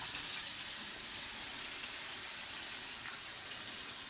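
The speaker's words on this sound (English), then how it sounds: "like to add water with this versus the broth sometimes" About two cups of water go into a cooking pot with bacon grease, a soft steady rushing pour heard alone and fairly quiet.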